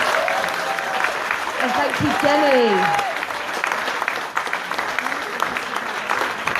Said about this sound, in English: can we give the speakers and everybody here tonight a big round of applause?